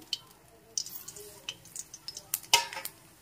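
Spice tempering (phoron) sizzling in hot oil left from frying fish, with a spoon scraping and tapping the pan in quick irregular strokes over a low fry hiss.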